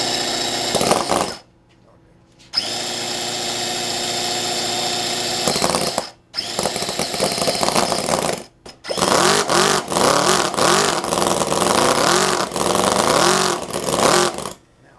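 A Conley V8 quarter-scale working model engine cranks, catches and runs, loud and close, with harsh rapid firing, revving bursts and brief cut-outs into silence between attempts before it settles into a rough, rising roar.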